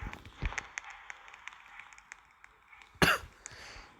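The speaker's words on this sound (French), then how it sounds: "Excusez-moi, je tousse encore." One sharp, loud cough bursts out near the middle of the clip, surrounded by faint taps and quiet background rustling.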